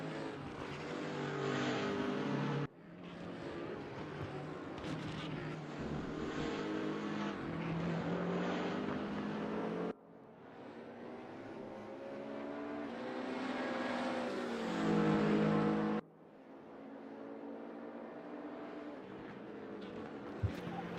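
BMW Z4 GT3 race car engine in RaceRoom qualifying, a loud, continuous high-revving drone that climbs through the gears with abrupt drops at each shift, heard close from the following car.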